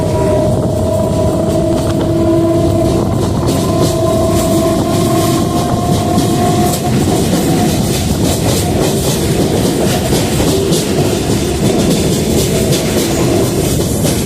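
A Chennai local train runs loudly along the rails, with a steady rolling rumble and rhythmic clickety-clack of the wheels, plus tonal squeals that fade after the first half, heard from on board with no talk.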